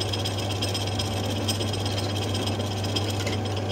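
A metal lathe fitted with a traveling steady rest runs with a steady mechanical hum and a low, constant drone, a faint rattling texture riding on top for several seconds.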